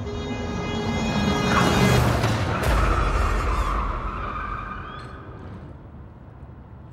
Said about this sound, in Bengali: গাড়ির হর্ন।